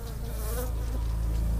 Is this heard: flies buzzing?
yes